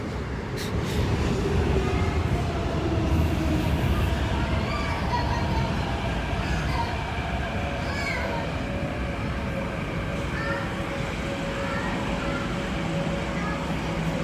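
An MTR C-train moves through Ngau Tau Kok Station with a steady rumbling roll and rising and falling whines, heard near and continuous with some background voices.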